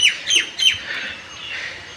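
Three quick, raspy pigeon squawks close by, followed by softer fading calls, with no other sound around them.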